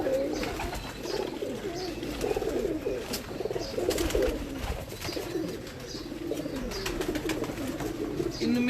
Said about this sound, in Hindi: इनको हम लाल परी कबूतर कहते हैं।